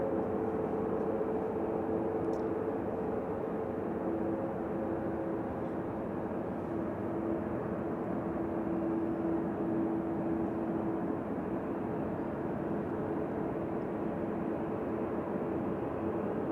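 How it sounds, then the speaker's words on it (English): An Aer Lingus Airbus A330 taxiing at an airfield: a steady, broad jet rumble with a faint whine, heard at a distance, unbroken for the whole stretch and free of voices. "that A330 Aer Lingus has just started moving"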